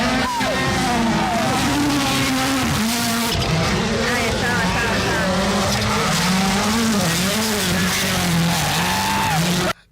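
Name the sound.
rally cars racing on muddy terrain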